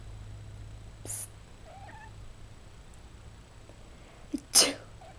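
Two small pets sneeze indoors: a faint sneeze near the start, then two sharp, closer sneezes in quick succession near the end, over a low steady hum.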